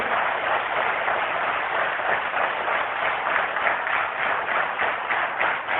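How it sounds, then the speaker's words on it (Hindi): A seminar audience gives a strong, sustained round of applause, many hands clapping together in a thick, even roar that keeps going for the whole stretch, with no voice standing out. "इनके लिए एक जोरदार क्लैप"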